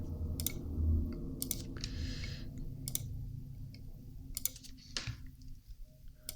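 Computer mouse clicks while modeling in 3D software, sharp isolated ticks scattered irregularly over a faint background hum, with no voices.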